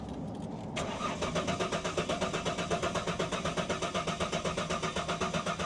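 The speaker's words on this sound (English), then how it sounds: "I'll give it another crank." A car engine with very low fuel and a check-engine warning cranks repeatedly, the starter churning in a fast, steady rhythm without catching, close and loud.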